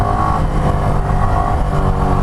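A motorcycle engine held at idle with the throttle closed during a wheelie, a loud, steady, low rumbling drone close by with slight fluctuations.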